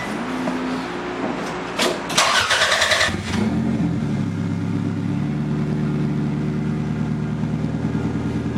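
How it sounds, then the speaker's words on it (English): A turbocharged VW Bug engine cranks briefly, catches and fires up, then settles into a steady, loud idle close by with no talk. "I just start the car so that it'll load up."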